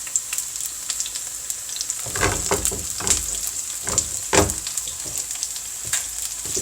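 Pork frying in hot oil in a single pan for spicy stir-fried pork bulgogi, a continuous bright sizzle with bursts of crackling and scraping stir strokes, loud and close, no voices.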